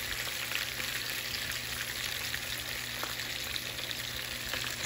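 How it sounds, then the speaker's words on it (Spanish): Guajillo chili sautéing in a pan, a steady soft sizzle and crackle of frying that holds evenly throughout, with faint occasional stirring ticks. "Vamos a sofreír mientras el pollo se está cociendo"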